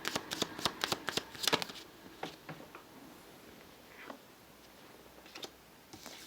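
Tarot and oracle cards are riffled and shuffled close up, a quick burst of crisp flicking snaps that thins into a few scattered clicks and soft slides.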